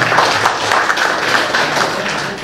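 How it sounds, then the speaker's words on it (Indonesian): A hall audience applauds the millennial senators with dense, steady clapping that carries at an even level from start to finish. "Kita beri aplaus kepada senator milenial"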